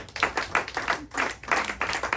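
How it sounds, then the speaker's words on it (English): A performance audience claps in short bursts, a few uneven rounds of hand claps rising and falling, fairly close but modest in level. "give yourselves a round of applause."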